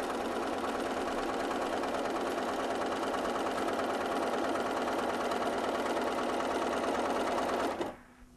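A sewing machine stitching steadily, a fast close whirring hum with regular needle clatter that runs for about eight seconds, then stops abruptly.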